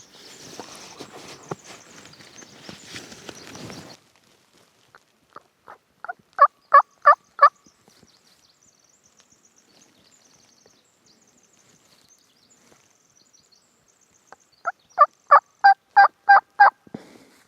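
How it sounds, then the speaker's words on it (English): Two short runs of sharp, evenly spaced turkey hen yelping calls during a turkey hunt, five or six notes each, ring out clearly, separated by quiet stretches with faint scattered rustling. "I'm going to call in this hen."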